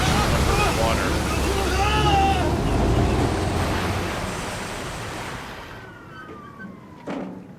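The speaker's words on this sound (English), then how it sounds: "Kind of sounds like a tank underwater." A tank from Valkyria Chronicles emerging from underwater, a loud rushing, sloshing wash of water and engine rumble with bubbling warbles that slowly fades, ending in a short knock.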